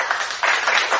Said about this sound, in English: Let's go with an applause.